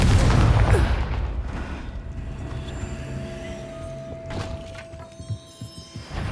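A Confringo fire-blast spell from Hogwarts Legacy goes off at the start as a loud, booming explosive burst, then decays into a rumbling tail with a steady tone and a few scattered pops.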